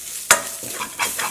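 Spice paste frying in coconut oil for egg biryani, with a soft continuous sizzle broken by a sharp spatula scrape and then a couple of lighter stirring scrapes against the pan, close and clear.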